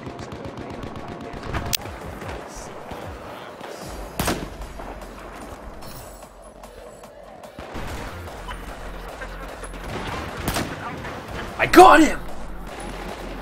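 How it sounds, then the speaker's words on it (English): Scattered gunshots crack out in Battlefield 4, several separate sharp shots spread across the stretch, with one louder burst near the end, all under an excited talking voice. "I'm being shot from somewhere."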